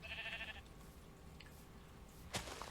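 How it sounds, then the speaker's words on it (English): A goat bleats in a modded Minecraft world, a short nasal call near the start, followed later by a brief burst of game noise over a steady low background. "Ah, yes, Mr. Goat."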